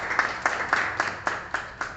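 An audience at a Women's Day event claps for a speaker in a short, fairly sparse round of applause, with distinct hand claps beating in a loose rhythm. The claps sound near and clear.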